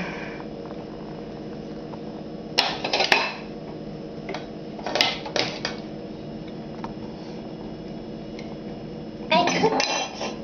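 A toy pan clatters and clinks as Play-Doh is stirred in it, several short bursts of scraping and knocking over a steady room background, with occasional soft voices.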